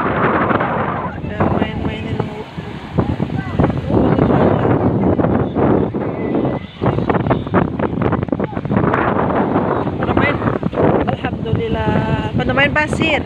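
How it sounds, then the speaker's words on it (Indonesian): Strong wind buffets the microphone at a beach in Gangshan, Kaohsiung, Taiwan, a loud, continuous roar of gusts that surges and dips throughout, with people talking over it. "Wah, anginnya tuh kencang, kencang banget."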